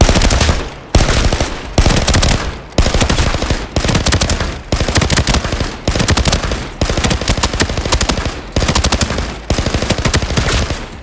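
An ARX 160 rifle fires fully automatic in the shooter game Arena Breakout Infinite during a recoil test, loud close bursts of rapid shots, each lasting about a second, repeated with short pauses between them.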